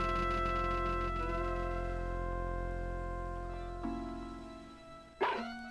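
Boney the dog barks once in Mother 3: a short, sharp, synthesized yelp near the end, after several seconds of steady electronic game music tones.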